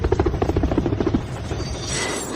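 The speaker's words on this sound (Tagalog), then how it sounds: "Tumawag ka ng helicopter." A helicopter's rotor beats in a steady, rapid thumping pulse for over a second, then the chop blurs into a continuous whooshing turbine roar, fairly loud and close, with no talking.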